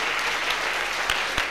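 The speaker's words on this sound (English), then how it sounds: "Let's clap for Jesus." A church congregation claps hands in worship, a steady dense wash of applause filling the space with a couple of sharper claps standing out.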